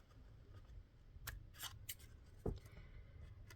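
Scissors snip along the edge of a ribbon while trimming a mini square card, giving a few short, crisp cuts close up in an otherwise quiet room.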